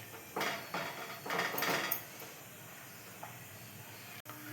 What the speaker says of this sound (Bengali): এবার আরো কিছুটা নাড়তে হবে